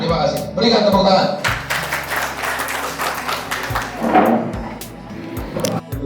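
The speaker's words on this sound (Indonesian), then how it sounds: "Berikan tepuk tangan." Audience at a Golkar party youth wing meeting in Bekasi breaks into loud, sustained applause and clapping in a meeting hall, with voices and chatter mixed in throughout.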